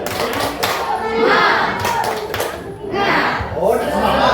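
A group of schoolchildren performs a rhythmic spirit clap in a classroom, with bursts of patterned clapping mixed with chanting voices and a teacher's speech.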